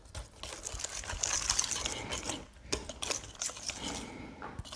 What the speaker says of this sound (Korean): 계란 흰자 머랭 3분의 1 정도 넣어주고요. 자, 휘스크로 처음에는 좀 빨리 섞어주셔도 됩니다